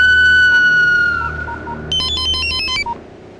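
A mobile phone ringtone in a Telugu film scene: a bright electronic melody sounds clearly, fades, then a quicker chiming tune plays for about a second before it abruptly cuts off. No one speaks.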